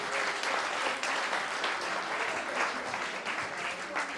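A crowd at a Bible study gives steady, dense applause, sustained at an even level throughout with no clear pauses.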